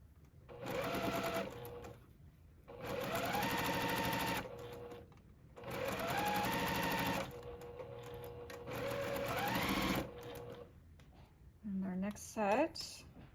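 Sewing machine stitching curved convex and concave fabric pieces of a zinnia quilt block, running in four loud, rapid bursts separated by short pauses, followed by a few brief, lighter sounds at the end.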